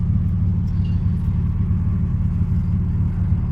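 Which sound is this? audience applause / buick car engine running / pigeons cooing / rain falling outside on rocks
buick car engine running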